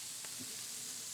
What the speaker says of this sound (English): Get that other side seared up now.